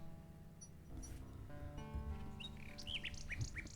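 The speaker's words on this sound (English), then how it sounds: "we need the nightingale" Nightingale song from the King's Quest 6 adventure game: bright warbling chirps and rising whistled phrases over a steady game music bed, fairly close and clear, with no talk.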